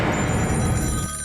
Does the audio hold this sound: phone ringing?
yes